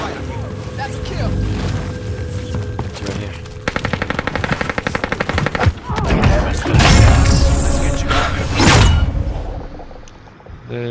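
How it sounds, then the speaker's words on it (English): Bursts of automatic gunfire and single shots ring out in Call of Duty Modern Warfare 2019, loud and close, mixed with explosions and crashes, with brief talk underneath. "And I am shooting"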